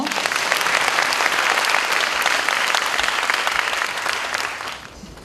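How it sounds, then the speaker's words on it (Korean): A large student audience at a Chung-Ang University admissions information session applauds steadily to welcome the admissions dean, a dense, loud wash of clapping that holds for about five seconds before thinning out at the end. "박수로 맞이해 주세요"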